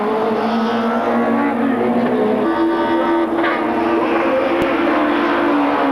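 Opel touring car engine heard on board during a 1995 Supertourisme race at Paul Ricard, a loud steady drone with a gear change near the midpoint that holds pitch throughout.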